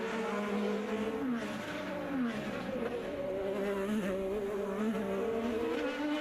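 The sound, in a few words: IndyCar race cars racing at Detroit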